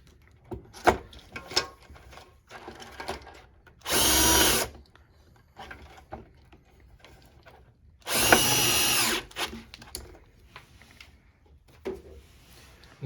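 A power drill drives screws to fasten down a replacement transformer unit in two short, loud whirring bursts a few seconds apart, with quieter clicks and handling noises between them.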